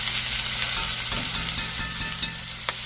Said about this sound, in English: We're going to get a nice saute